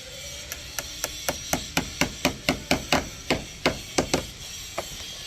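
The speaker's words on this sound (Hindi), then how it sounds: "तो अब आप देख सकते हैं इसमें कील लगा दी जाएगी। पतली कील लगा देगा में।" Thin nails are hammered into a PU stone wall panel: about a dozen crisp, evenly spaced taps in a quick steady rhythm, close and fairly loud, with no talking.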